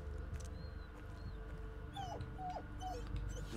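A dog in the horror video game Blair Witch whimpers and yips softly in a few short, rising cries, faint against a low ambient game background, with no speech.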